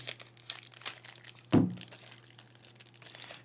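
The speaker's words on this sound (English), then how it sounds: "And that is a crinkly case." Crinkly plastic wrap on a Star Wars deckbuilding game box from Fantasy Flight crackles in close, scattered crinkles, with one sharp louder tear or crunch midway and no talking.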